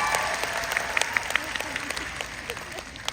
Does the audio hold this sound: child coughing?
no